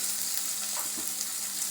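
A spice mixture of red chili, turmeric, coriander and cumin powders sizzles and fries in oil while being stirred in a pan, a soft steady hiss with light scraping, quiet and close.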